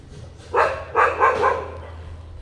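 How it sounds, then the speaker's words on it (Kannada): A stray dog on a city street barks three times in a quick cluster at moderate distance, then falls quiet over a low background hum. "ಇಲ್ಲಿ ಅದೇ ಬೊಗಳ್ತಾಯಿದ್ದು ನೋಡಿ."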